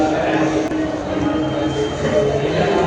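A train at a railway station, a steady rolling rumble with a brief metallic squeal and a sharp knock, while a person's voice is heard talking under the station noise.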